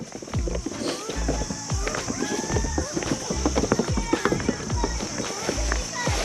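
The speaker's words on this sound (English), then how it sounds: "Goats on a bridge." Goat hooves clattering across a wooden bridge over a creek on a farm, a busy uneven patter of many close steps, with people talking over it.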